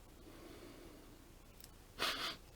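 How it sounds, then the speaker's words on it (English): A short, sharp nasal sniffle near the end, following a quiet stretch of room tone. "got a bit of a sniffle"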